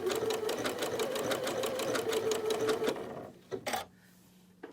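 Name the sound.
sewing machine stitching a quilt block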